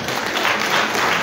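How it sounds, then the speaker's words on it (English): An audience applauds at a youth empowerment program event in Liberia, steady dense clapping filling the whole short moment. "Please clap for Anna"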